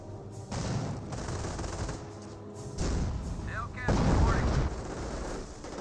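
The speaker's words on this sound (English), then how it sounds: "Sticky bomb thrown onto the Stu." Tank cannon fire and a sticky bomb blast in the Company of Heroes war game, dense rumbling gunfire and heavy booms swelling in bursts, with a faint whistling streak midway.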